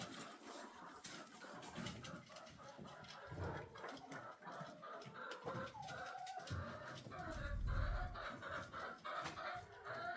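A flock of chickens clucking and murmuring continuously nearby, overlapping calls with occasional louder squawks.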